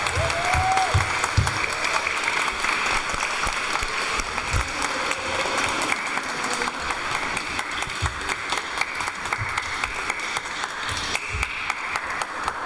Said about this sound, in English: let us welcome the couples with a round of applause